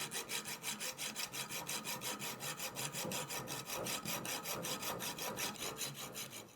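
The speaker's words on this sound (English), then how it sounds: "so we'll just cut through this. I'm just keeping my saw parallel to my vise jaws." A hand saw cutting through a part of a Schrade push-button pocket knife clamped in a vise, with steady rhythmic back-and-forth rasping strokes about two per second, close and unbroken, with no talking.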